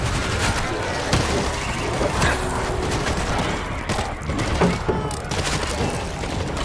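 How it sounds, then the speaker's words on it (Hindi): Heavy combat in the World War Z zombie shooter as an RPG launcher fires: dense, continuous blasts and booming explosions layered with gunfire and mechanical clatter, loud throughout with a voice talking over it. "तो इधर मैंने क्या आरपीजी लॉन्चर से ही उड़ा देता हूँ सबको"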